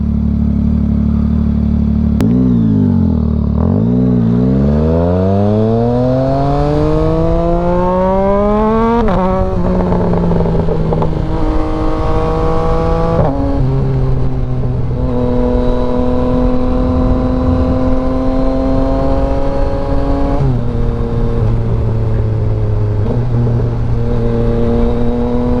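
A motorcycle engine revs hard and loud, its pitch sweeping up and down through repeated throttle blips and sustained high-rev stretches, running close and continuous with no talking.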